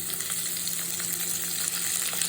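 Curry leaves and green chillies sizzle in hot oil in a pan for a Kerala-style egg stew, a dense, continuous crackling fry that stays loud and even throughout.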